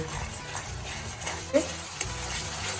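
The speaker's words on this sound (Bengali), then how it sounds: "এবার ভালো করে কষিয়ে নেব" Onion and tomato masala for egg curry fries in oil, giving a low continuous sizzle with scattered stirring scrapes and a couple of sharper knocks against the pan. Faint voice-like sounds may sit underneath.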